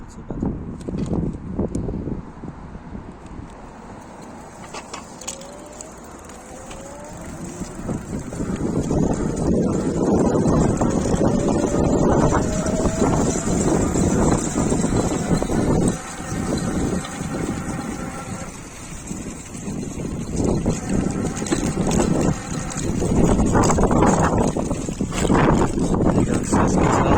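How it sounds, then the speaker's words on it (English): An electric bike hub motor with metal gears whirs at full throttle, a steady whine and rumble over blustery outdoor wind noise, with a rubbing mudguard adding scraping and a person talking over it. "this is what an electric bike wheel sounds like when you go full throttle and it's got metal gears inside"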